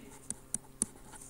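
A marker or chalk taps and strokes on a classroom board in three quick, close marks over a quiet room.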